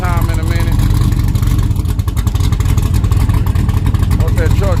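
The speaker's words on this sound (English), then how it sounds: "What's that truck sound like?" A truck engine revs loudly at a small tire drag racing event, its steady roar and rumble filling the whole stretch, with voices in the crowd talking over it.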